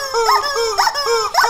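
A dog excited by a chicken toy gives a string of three or four high, whining yips and howl-like cries in quick succession, close and fairly loud.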